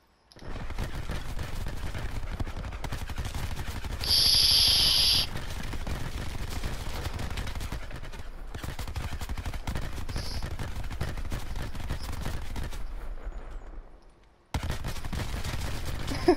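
Rapid bursts of gunfire in Call of Duty Black Ops 4 Prop Hunt on the Nuketown map, dense and continuous through most of the stretch with a brief drop-out near the end.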